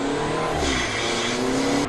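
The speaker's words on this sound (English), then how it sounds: "So that's just getting up to speed. It's literally getting up to 50 miles an hour for the road." Alfa Romeo 4C sports car accelerating on the road up to about 50 mph, a loud close engine note rising steadily in pitch as it pulls through the revs with no talk.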